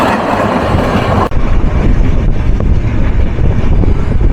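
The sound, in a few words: Mohanagar Express intercity train passing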